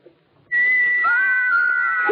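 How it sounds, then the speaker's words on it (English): After a brief quiet moment, a sustained high whistling tone from small carved wooden figures starts abruptly and holds, with a second pitch sliding in partway through. "These little carved figures can whistle."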